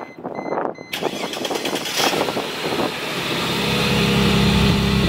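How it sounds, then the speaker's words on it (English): A Mercedes G320 V6 engine with a new exhaust turns over and catches, then revs and settles into a loud, deep idle through the exhaust, close up. "Here we go. Here's the new exhaust."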